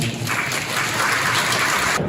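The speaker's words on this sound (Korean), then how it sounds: "분당구을 국회의원 김병욱 의원님을 박수로 모셔보겠습니다." An audience at a residents' information meeting on an apartment-complex redevelopment in Bundang applauds to welcome a National Assembly member, a brief burst of steady, fairly loud clapping that cuts off abruptly at the end.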